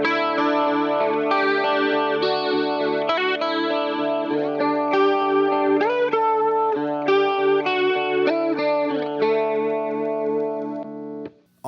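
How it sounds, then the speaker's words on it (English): An electric guitar through a flanger pedal on a pedalboard, sustained melodic notes with a basic sweeping, whooshing flange effect, loud and alone with no speech. "here's just a basic flange sound"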